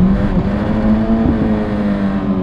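A motorcycle engine pulls hard and revs up while the rider turns and overtakes, a loud, continuous drone with rising pitch, heard close from a helmet-mounted lavalier mic.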